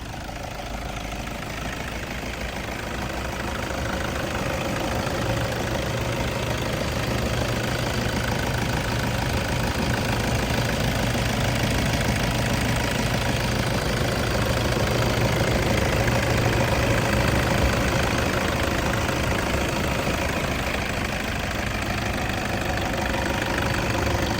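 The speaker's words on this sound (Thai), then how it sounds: "สตาร์ทติดแล้วไม่ต้องรออะไร มาฟังเสียงเครื่องครับ" Toyota Vigo 2.5 E pickup from 2010 idling just after starting, a steady, continuous engine rumble with a slight knocking texture, close and moderately loud, with no voices.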